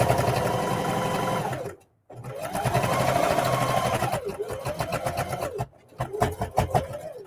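A sewing machine edge stitching a lunch tote bag whirs close and loud in sustained runs, breaking into slower, pulsing stitches toward the end with short pauses, and no voices.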